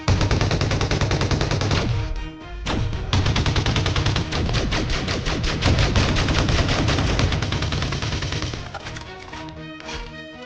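Rapid bursts of automatic gunfire in an Elite Dangerous audio story crackle in dense volleys, pausing briefly before resuming and gradually thinning out toward the end.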